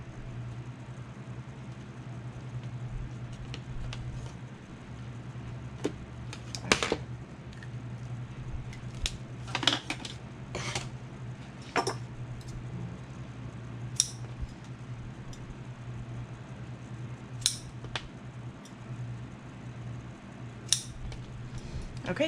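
Handbag strap pieces cut to length with scissors: a series of sharp, scattered snips over a low steady background hum, close and fairly quiet, with no talk.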